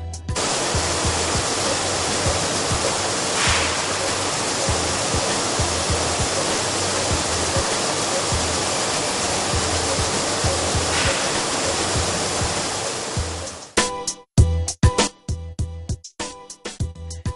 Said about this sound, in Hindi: इस सिस्टम में गेहूं को साफ पानी से धोया जाता है